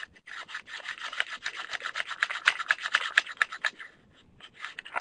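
Scrap polymer clay rolled back and forth inside a lidded plastic bead roller, giving a steady close-up rasping, rubbing scrape in rhythmic strokes for about four seconds before trailing off.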